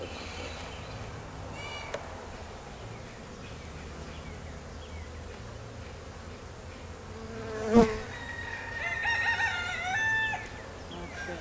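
Honeybees buzzing around an open hive during a frame inspection, a continuous close insect drone throughout, with a brief louder knock or handling noise near the end.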